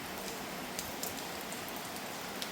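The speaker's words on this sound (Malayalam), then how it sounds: "നല്ല മഴ." Steady rain falling outdoors in Kerala, a continuous soft hiss with a few faint, scattered drop ticks, even and unbroken throughout with no talk.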